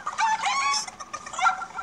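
Chicken clucking in a video game, a run of bright, choppy clucks and squawks in two bursts, close and clear with no talking over them.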